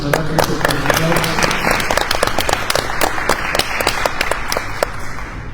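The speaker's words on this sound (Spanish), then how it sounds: "también vamos a darle un aplauso" An audience at a panel discussion claps steadily, a dense patter of many hands close by that holds through the whole stretch with a murmur underneath.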